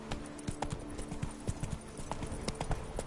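Roach the horse in The Witcher 3 video game gallops with rapid, close hoofbeats in a quick, uneven rhythm, moderately loud and heard on its own.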